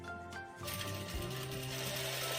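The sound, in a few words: sewing machine stitching fabric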